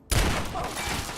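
Gunfire aimed at the player in the video game Fallout 3: a sudden loud volley of shots erupts and then carries on as a sustained rattle of fire for about a second.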